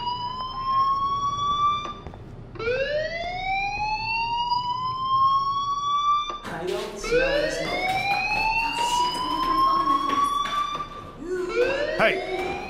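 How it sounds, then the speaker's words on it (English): Fire alarm in the Life Is Strange video game, a loud repeating electronic siren that rises in pitch over and over, whooping steadily at close range throughout. "do you hear that fire alarm?"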